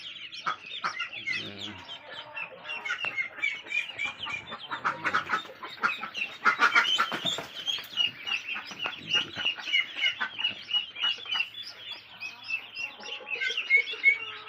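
Dense, continuous high peeping of many ducklings of several breeds on a duck-breeding farm, rapid overlapping chirps close by with an occasional low cluck.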